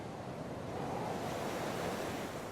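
Ocean waves around Sri Lanka wash in a steady, broad surf roar, soft and continuous with light wind noise, no voices.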